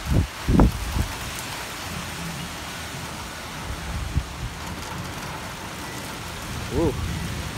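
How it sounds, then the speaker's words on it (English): Steady rain falls through a Portland, Oregon thunderstorm, with several loud low thunder booms near the start and another rumble later, and a person talks briefly toward the end. "I just saw another lightning strike over there."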